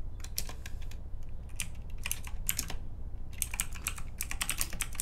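Rapid keystrokes on a computer keyboard while typing a chat command in a GTA San Andreas multiplayer (SA:MP) session. The clicks come in uneven bursts and short pauses over a low steady background hum, close and fairly quiet, with no talking.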